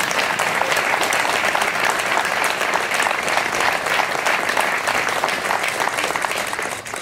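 Graduates applaud their parents at a 2015 graduation ceremony, a loud, dense, continuous burst of many hands clapping that holds steady throughout, with faint crowd murmur underneath.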